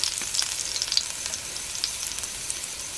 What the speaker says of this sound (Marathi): एक हलकंसं 1 चम्मचभर तेल टाकूया आणि लसूण टाकली बघा.